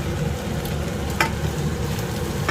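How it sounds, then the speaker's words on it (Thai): Wild garlic sizzles steadily as it is stir-fried in a pan with noodles and minced pork, a dense, continuous frying hiss with a brief utensil scrape midway and no talking. "ก็ผัดคลุกเคล้าให้เข้ากันนะคะ"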